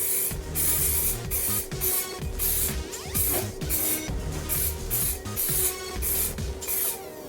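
A spray can puts a light dusting of primer onto an Audi A4 front wing, giving a close, steady hissing spray in repeated bursts with short breaks between passes.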